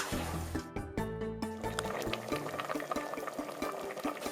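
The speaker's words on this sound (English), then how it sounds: "it's been about 2 minutes that it's been boiling, which is perfect" Mexican chicken mixture bubbles at a steady boil in a pot meant for a thermal cooker, with dense continuous bubbling and liquid popping, close and moderately loud, alone with no talking.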